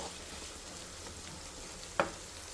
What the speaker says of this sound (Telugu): ఇందులోకి కొద్దిగా పసుపు, వేసి కొంచెం ఇది ఫ్రై అవ్వాలి